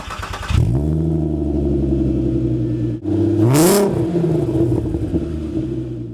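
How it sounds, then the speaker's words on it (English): A modified Mk4 Volkswagen Golf R32 with a VR6 engine and high-flow cats revs loudly and close, holding a steady throaty drone, dropping briefly, then climbing in a second sharp rev before settling back to a rumbling idle. "the R32 has that iconic VR6 sound that really is one of the best sounding engines ever made"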